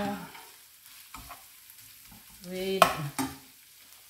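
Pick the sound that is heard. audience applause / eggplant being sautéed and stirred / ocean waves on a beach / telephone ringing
eggplant being sautéed and stirred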